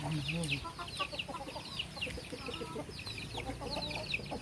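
Several chickens cluck and chatter close by on a small farm, overlapping bursts of clucks with a brief louder squawk, over a low background of farmyard noise.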